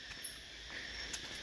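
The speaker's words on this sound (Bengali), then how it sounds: "এখানে ঝিঝি ডাকছে একদম।" Crickets chirp in jungle near the Cu Chi tunnels in Vietnam, making a faint, thin, continuous high trill in a quiet setting with no voices.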